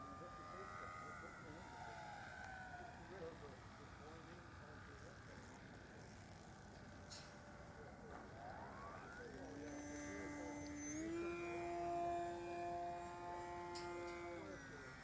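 An RC Timber airplane fitted with flaps and tundra wheels flies in for a landing with White Tank Mountains nearby, its small electric motor whining steadily and rising in pitch near the end, with wind and faint background noise throughout.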